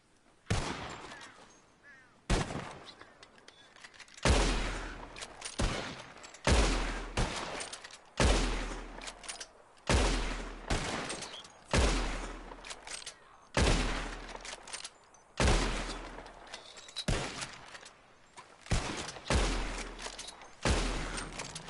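Repeated rifle gunshots from a Red Dead Redemption bird-shooting contest, about ten sharp loud cracks spaced a couple of seconds apart with short echoing tails.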